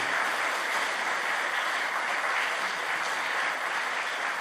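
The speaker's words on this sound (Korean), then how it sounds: "큰 위로와 격려의 박수를 주시기를 바랍니다" A church assembly congregation applauds pastors and their wives as they bow at an officers' installation ceremony. The clapping forms a dense, unbroken roar that holds at a steady level from start to finish.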